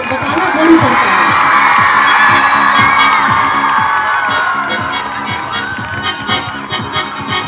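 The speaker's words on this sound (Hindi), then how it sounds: "एक बार जोरदार तालियां हमारे चेयरमैन सर के लिए" A school audience of children cheers and whoops for the chairman at an annual function in Patna: a loud, close wash of excited shouting and cheering with claps mixed in, slowly easing off, with voices in the crowd throughout.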